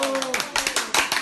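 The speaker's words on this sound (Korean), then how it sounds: "박수!" Audience applause greeting a guest on a Korean adoption-themed talk show, a short burst of bright, scattered clapping with a voice trailing off at the start.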